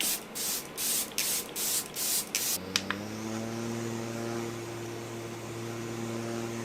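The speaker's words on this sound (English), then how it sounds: "I'm gonna spray again." Several short hissing bursts of a makeup setting spray, close and rhythmic, followed by a low steady hum.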